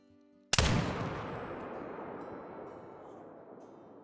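A single muzzleloader shot in the hunting game Call of the Wild, one sudden loud blast followed by a long rolling echo that fades over several seconds, no talk.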